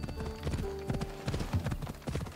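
Horse hooves clip-clop in Assassin's Creed Odyssey, a steady galloping rhythm of close, distinct hoofbeats across the whole stretch, with game music tones faintly underneath.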